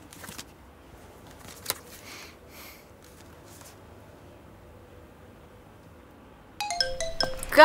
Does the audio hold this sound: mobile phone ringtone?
yes